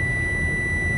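Steady electronic tone from a Power Probe ECT3000 short finder tracing a wire in a vehicle, one continuous high beep held through the whole second at fairly loud level over a low rumbling background, no talking.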